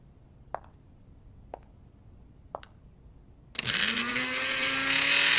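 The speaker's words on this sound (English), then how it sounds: "Yes, that's a very nice blender." Three faint beeps of buttons being pressed, then a kitchen blender starts abruptly with a loud, steady whirring roar that keeps building.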